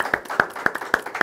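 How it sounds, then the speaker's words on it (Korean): A few people clap in a small church gathering, five sharp, evenly spaced claps close by, with a faint hum of voices behind. "와 박수"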